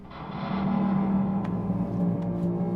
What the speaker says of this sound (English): really just a garbage can lid pitched down an octave with a little bit of reverb